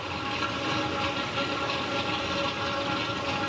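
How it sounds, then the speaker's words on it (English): A loud, continuous churning hiss of a DIY needle wheel impeller pump driving bubbling water in a sump, steady and unbroken, close by with no voices. "That is a lot of bubbles getting made by this."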